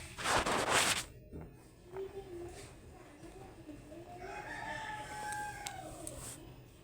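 A rooster crows loudly amid clucking chickens in a rain-flooded poultry farm, with a brief burst of other noise at the start and a busy farmyard background.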